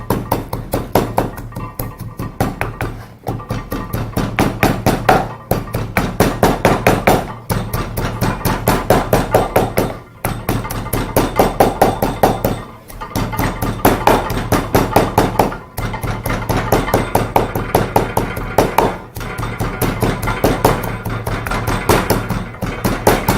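Coriander seeds pounded in a mortar for chips masala, heard as a loud, steady run of rapid thuds that keeps going without a break for over twenty seconds, with no talking.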